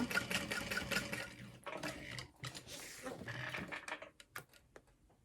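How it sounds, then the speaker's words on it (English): Sewing machine stitching a handbag handle close to the D-ring hardware, with a rapid, steady mechanical run that pauses briefly and restarts, ending in a few short bursts and clicks. "sewing as close to the hardware as possible"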